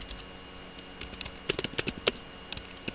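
A short run of computer keyboard typing, with soft, close keystrokes in a quick uneven rhythm over a low steady hum.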